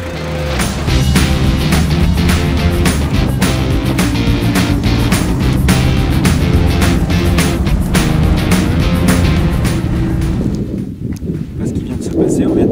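A Citroën C15 drives fast across desert terrain, loud broadband rumble and rattling jolts throughout, then noise drops near the end after hitting a rut around 80 km/h.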